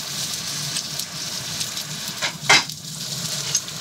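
Garlic and onion fry in hot coconut oil, a continuous close sizzle with a brief louder hiss and crackle partway through, then a softer steady fry.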